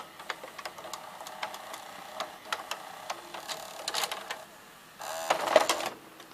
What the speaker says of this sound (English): Now let's see the loading motor in action.